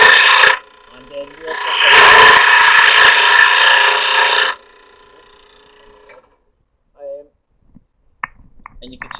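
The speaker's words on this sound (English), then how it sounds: "the lathe started to make a funny noise here, so I turned it off immediately" A lathe turning a small wheel gives a loud, harsh grinding whine for a few seconds, then cuts off to quiet, with faint clicks and knocks after.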